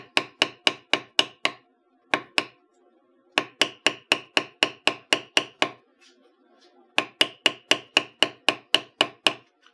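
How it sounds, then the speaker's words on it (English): Rapid bursts of sharp mallet strikes on a leather-tooling bevel tool work a line across a leather coaster, loud close evenly spaced taps in runs separated by brief pauses. "So I will bevel this line that goes all the way through to the center."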